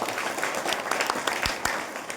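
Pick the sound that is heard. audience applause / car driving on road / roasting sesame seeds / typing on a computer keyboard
audience applause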